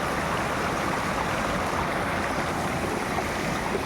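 Water pouring down from above at Rishihat in North Bengal, a steady, continuous rushing wash that holds at an even level throughout with no voices over it.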